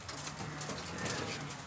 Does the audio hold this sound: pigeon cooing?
yes